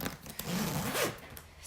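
A zipper on Louis Vuitton Pegase luggage is zipped closed in one continuous, fairly loud rasping pull lasting over a second, close up, with no talk over it.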